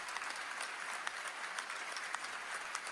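A crowd at a rap battle event applauds a rapper with continuous, dense clapping that holds steady and fairly distant throughout.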